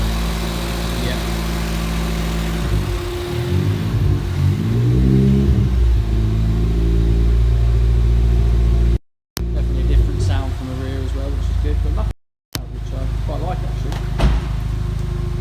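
A Ford Fiesta ST engine revving after a REVO Stage 4 tune, loud and close, its pitch climbing and falling through several revs over a steady idle, broken by two brief dropouts.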